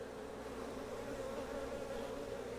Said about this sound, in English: it would appear the bees have inhabited this nuke